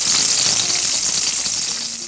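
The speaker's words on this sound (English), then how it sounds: "Add a little sizzle, if you will, to your videos." A sizzle sound effect: a loud, continuous, hissing frying crackle that holds steady and fades slightly at the end.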